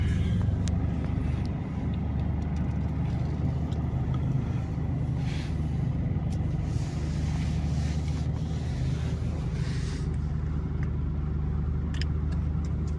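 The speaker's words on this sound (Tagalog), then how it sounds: "Traffic talaga ang Baguio." Steady city traffic in Baguio City, a continuous low rumble of car engines with wind buffeting the microphone, no clear individual vehicle standing out.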